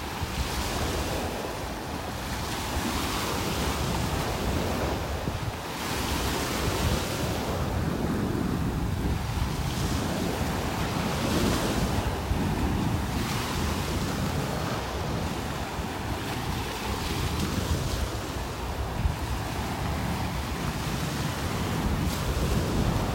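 Ocean surf rolls onto the beach at Delnor-Wiggins in North Naples, Florida, in a steady wash of breaking waves with gusty wind rumble on the microphone, continuous and fairly close.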